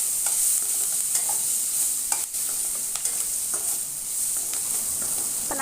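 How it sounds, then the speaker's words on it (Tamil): Vegetables sauté in a pan with soy sauce for Gobi Manchurian, giving a steady sizzle with repeated light stirring and scraping throughout, close and alone. "ஒரு நிமிஷத்துலேருந்து 2 நிமிஷம் வரைக்கும் வதக்கி விட்டால் போதும்"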